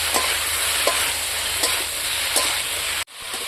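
Potato and eggplant fry in spice paste in a pan, sizzling steadily with a few scraping stirs before the sound cuts off abruptly near the end.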